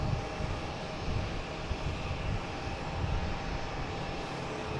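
Delta Airbus A220 jet bound for Austin, its engines giving a continuous low rumbling roar at a steady, fairly faint level, with no voices.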